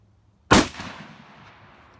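A single sharp gunshot firing SlapShot mechanical adaptable projectile ammunition at 25 caliber, a loud crack after a moment of silence, then a fading echo.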